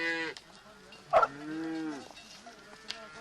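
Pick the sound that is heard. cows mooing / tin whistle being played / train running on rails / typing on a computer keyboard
cows mooing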